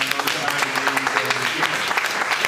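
Audience applause at a citizen science research conference, a dense patter of many hands clapping steadily throughout, with faint voices and tonal murmurs mixed low beneath it.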